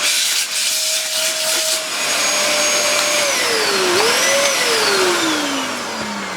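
A Dyson vacuum cleaner runs steadily and loudly throughout, its motor whine holding a constant drone with a brief pitch dip and recovery midway.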